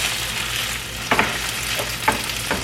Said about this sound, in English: what you want to do is fry the rice.